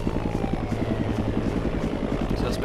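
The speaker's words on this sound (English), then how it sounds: "There's a drone at F-150" Drone in the video game City Life RPG 2, a steady buzzing rotor whir with a fast pulsing flutter, close and continuous over faint game background.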